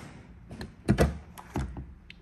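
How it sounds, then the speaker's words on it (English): Electronic fuel door release on a 2022 Mercedes-Benz E300 AMG Line: a couple of quiet mechanical clicks and soft thunks as the flap pops open, heard close up with no talking. "you get your fuel door. It's an electronic release"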